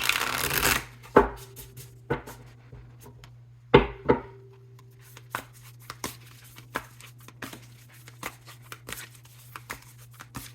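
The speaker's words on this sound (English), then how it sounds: "Get one more good shuffle on that" Tarot cards shuffled up close: a loud riffle at the start, a second burst a few seconds later, then softer taps and slides of cards being handled.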